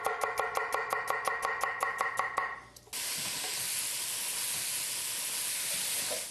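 Sliced onions sauteing in a pan with chicken thighs for a braise: a run of sharp, evenly spaced knocks gives way after about three seconds to a steady, moderately loud hiss of frying that carries on to the end.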